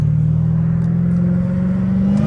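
A loud BMW M5 sports car engine holds a steady, deep droning revs close up, a continuous rumbling tone that rises slightly toward the end, with no talking.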